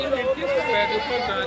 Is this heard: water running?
no